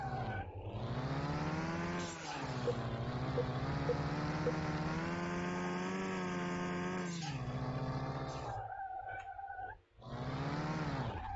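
A car engine in Car Mechanic Simulator 2021 drones loud and close, its pitch rising and falling with throttle over several seconds, then briefly cutting and returning near the end.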